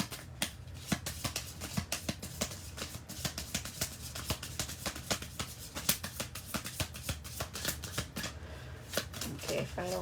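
Oracle cards are shuffled by hand in a steady, fast run of crisp riffling flutters and soft slaps, close and continuous for about ten seconds.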